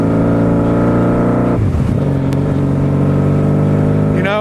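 Honda Magna motorcycle engine during break-in, idling with a steady throaty rumble, then revved and dropped back, ending with a rising rev, close and loud.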